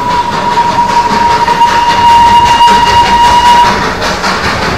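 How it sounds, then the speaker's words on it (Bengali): A coal-powered Darjeeling toy train passing close by, with a loud steady rumble and clatter of rail cars and a sustained whistle-like tone running through most of the clip. "এই টয় ট্রেন যাচ্ছে,"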